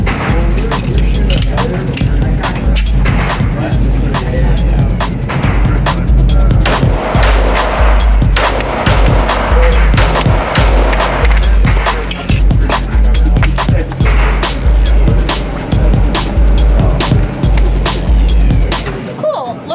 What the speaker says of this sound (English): I'm gonna shoot a couple controlled pairs with the Springfield 1911 A1 loaded.